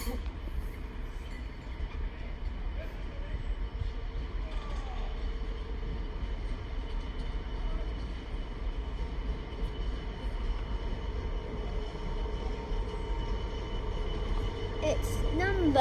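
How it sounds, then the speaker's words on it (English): A Class 66 Maritime Intermodal freight train bound from Wakefield Europort to Felixstowe rumbles through Peterborough station, a steady low rolling drone with faint wheel and rail noise building toward the end. "Our only and final train of the day, and only freight train, will be a freight service from Wakefield Europort to Felixstowe."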